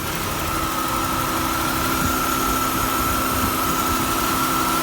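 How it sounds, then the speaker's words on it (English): A GM car engine idling in a salvage yard, giving a steady, continuous mechanical hum with a constant whine, close and loud throughout with no break and no voices. "You can see that AC compressor clutch spinning nicely."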